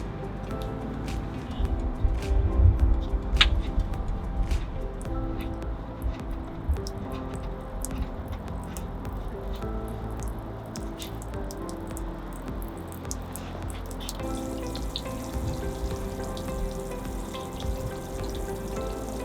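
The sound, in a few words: water draining from a trailer's water tank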